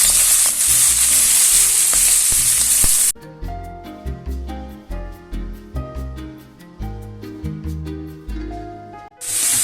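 Peas drop into hot oil with garlic and fry; a loud sizzling hiss gives way to a run of popping, spitting crackles, close up.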